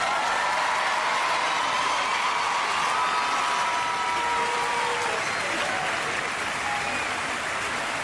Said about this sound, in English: A big round of applause for both of our teams